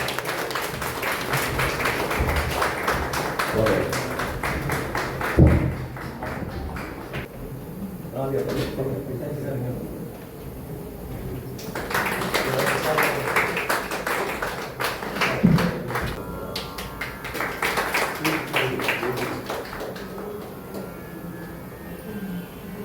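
Audience applause for children on stage at an inauguration ceremony of a music group's event, bursts of clapping swelling around 3–7 and 12–17 seconds amid crowd noise and a PA voice.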